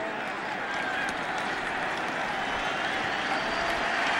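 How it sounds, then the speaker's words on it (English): Steady, dense applause from a large stadium crowd at a 2007 Miami vs Oklahoma game fills the whole stretch, a continuous wash of clapping with a faint roar underneath. "here comes the applause"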